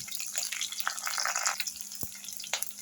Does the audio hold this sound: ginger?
yes